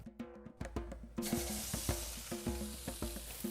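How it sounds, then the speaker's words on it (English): Fish in a grill basket sizzles on a hot grill grate, a loud steady hiss that starts after a few metallic clanks as the basket is set down, with more clatter on top and no talking. "the fish goes on first because it takes a little longer to cook. And simply place it on the grate in its basket."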